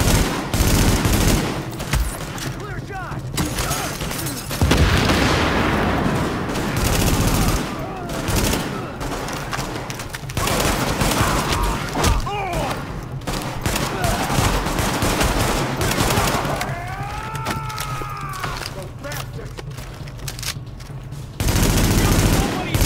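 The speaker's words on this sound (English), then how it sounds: "The escort party's taking heavy fire from the roof." Heavy gunfire from the video game Tom Clancy's The Division, PC open beta, rattles almost continuously: dense automatic bursts and overlapping shots, with game voices and effects mixed in.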